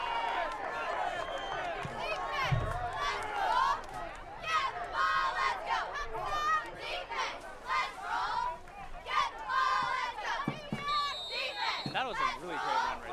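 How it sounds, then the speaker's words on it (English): A high school football crowd at Arcadia versus La Salle whoops and yells after a run, with excited shouting and cheering swelling and fading from nearby stands throughout. "the crowd is loving it."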